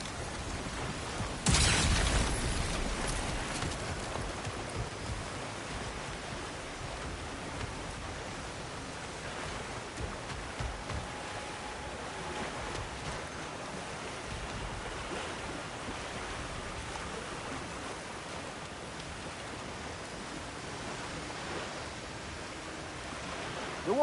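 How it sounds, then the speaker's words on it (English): Rushing water in the video game God of War, a broad, steady roar that starts with a loud surge and then flows on evenly at moderate level for the remaining twenty seconds, with no talking. "The water rushing above us"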